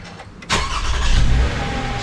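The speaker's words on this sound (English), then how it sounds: "Starting up the car," A 2016 Toyota Sienna engine cranks and catches at close range, a sudden start followed by a steady idle in a garage during front brake work.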